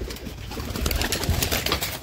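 A pigeon coos nearby amid rustling and brief wing flutters, fairly close over a busy background, with no clear speech.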